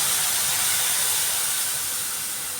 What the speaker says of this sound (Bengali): সর্ষের জলটা এটা আমি তেলের মধ্যে ছাড়লাম